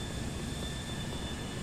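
A large airplane at an airport in the video game GTA IV gives off a steady, loud jet-engine roar that holds evenly throughout without breaks.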